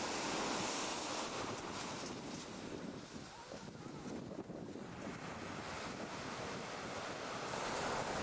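Sea waves breaking along the Lizard coast in Cornwall, a steady loud wash of surf with strong wind buffeting the microphone throughout and no letup.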